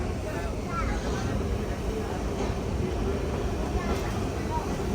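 A Nilgiri Mountain Railway train departs Mettupalayam with a steady, rolling rumble heard from on board, continuous throughout, while a person talks over it.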